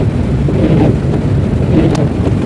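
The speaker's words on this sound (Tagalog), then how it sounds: "Ang lakas ng ulan guys." Heavy rain pours down during a typhoon, a steady, dense roar close by with gusty wind noise and no pauses throughout.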